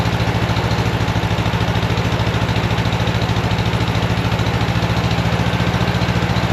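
A 1965 Volkswagen Beetle convertible engine idles rough on only two of its four cylinders, a steady low rhythmic chugging pulse that runs loud and unbroken throughout, with no voices.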